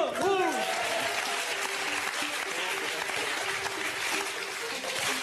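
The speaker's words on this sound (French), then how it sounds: "tout le monde applaudit" An audience at a live comedy sketch show breaks into applause, a steady full crowd clapping that fills the whole stretch, with brief whoops and cheers at the start.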